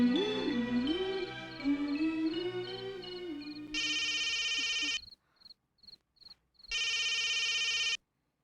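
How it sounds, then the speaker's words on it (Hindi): A telephone rings in two loud, buzzing bursts separated by a pause, following a sustained wavering tone; no talking. "भैया, भैया अंजलि का फोन है।"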